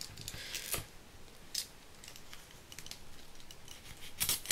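Scissors snipping through double-sided carpet tape, a few crisp close cuts spaced irregularly over a quiet background, with a cluster of sharper snips near the end.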